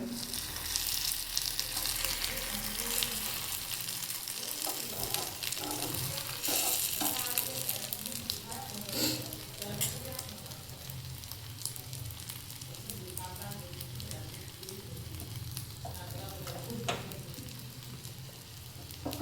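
Double egg omelette sizzling steadily in a pan after being flipped, a continuous close frying crackle with a few scraping stirs and no voices.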